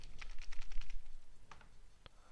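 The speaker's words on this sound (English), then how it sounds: "when this keyboard decides to go" Rapid bursts of clicking keys on a computer keyboard, a quick rhythmic run of taps followed by a pause and a few scattered strokes, close and fairly loud with no voices.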